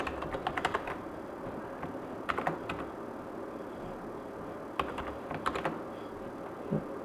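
Code is typed on a computer keyboard close by, with quick bursts of light key clicks separated by short pauses over a steady low room hiss.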